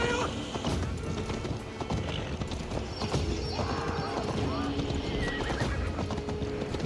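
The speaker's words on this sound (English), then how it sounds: "Pinche caballo, no puedes ir más rápido." Horse in the Assassin's Creed Valhalla video game galloping with steady clip-clop hoofbeats and neighing, loud and continuous under a busy in-game soundscape, with a person talking over it.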